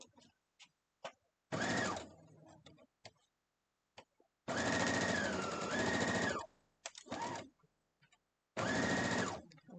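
A home sewing machine stitches sashing onto a Harry Potter quilt top, running in three bursts of steady whirring mechanical hum, one long and two short, separated by quiet gaps with faint ticks and handling clicks.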